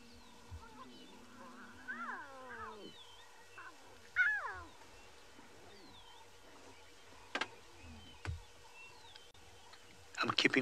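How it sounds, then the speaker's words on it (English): Lion cubs in the Maasai Mara give soft, rising and falling mewing calls in several separate bursts, faint and close in a quiet setting, with a few sharp knocks and clicks between them. "I'm keeping quiet, ladies and gentlemen, for you to hear those cubs calling"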